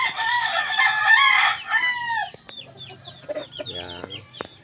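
A young stag rooster in a backyard crows once, a close, loud drawn-out call lasting about two seconds, followed by softer clucks and chirps from other fowl.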